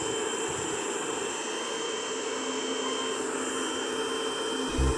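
A Karcher VC4 cordless vacuum cleaner runs with a steady, loud, high-pitched whirring whine and airflow hiss, constant throughout, close by and with no voices.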